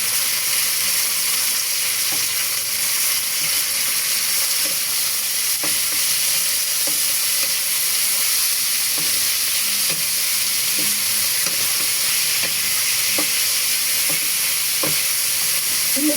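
Pork adobo with onion and garlic fries loudly in a pan, a dense continuous sizzle and hiss with scattered light clicks of a spoon stirring throughout, no voices.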